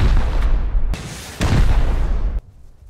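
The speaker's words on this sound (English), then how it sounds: "We're gonna shoot this wall here." Heavy blasts hit a base wall during a raid in the survival game Rust: about four loud, booming impacts in quick succession, each followed by a rumbling tail that cuts off sharply at the end.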